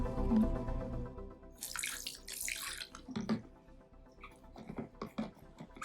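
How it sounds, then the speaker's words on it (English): Salt water splashes and gurgles as it is poured from a bottle into a tank, in short uneven bursts, close and fairly quiet. "this is salt water, and I'm just going to dump the rest of what I have in this bottle in here"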